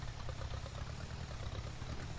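Small Ferguson tractor idling in Farming Simulator 19, a steady low engine rumble that holds even and continuous from start to finish with no voices.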